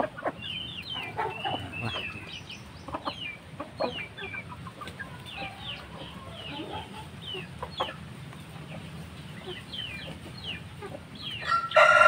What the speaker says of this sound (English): This is my gray Burmese chicken.